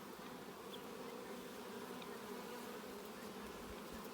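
Honeybees swarm around an open hive in a bee yard, their steady, dense buzzing holding at an even level throughout with no talk over it.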